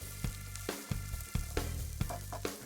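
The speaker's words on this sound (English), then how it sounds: "Next, sauté the vegetables and garlic." Vegetables and garlic sauté in hot oil in a heavy stock pot after browning beef shanks, a steady close sizzle broken by several sharp stirring clatters and pan knocks.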